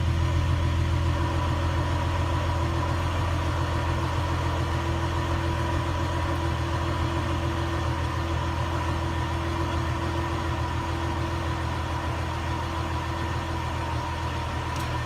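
A car engine idles steadily at moderate volume, a smooth continuous low hum with a faint higher drone, heard alone without voices.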